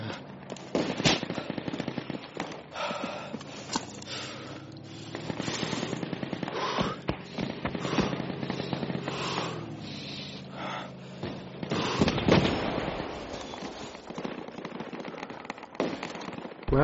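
Bursts of heavy gunfire and blasts from a self-propelled artillery gun knocking out enemy armor in a desert military shooter, sharp repeated reports over a rumbling battlefield with debris and scattered impacts.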